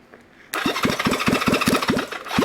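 A vintage Honda CB350 motorcycle engine catches after a quiet moment and comes to life, settling into a loud, close, rhythmic chugging with regular pulses.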